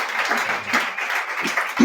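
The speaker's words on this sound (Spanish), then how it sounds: "Un aplauso para él." Audience applause at a poetry recital and interview, a short burst of continuous clapping filling the space at moderate loudness.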